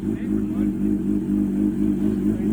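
A 2019 Kawasaki ZX-6R sport bike with an Arrow Pro Race full exhaust system and the dB killer removed idles and revs, a steady loud throbbing engine note close by.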